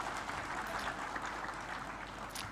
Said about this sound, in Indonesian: Kita beri tepuk tangan sekali lagi untuk Bang Thorik.